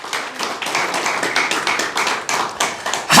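A church congregation claps along during a sermon, a steady run of fairly close hand claps in rhythm filling the moment, with a louder burst at the very end.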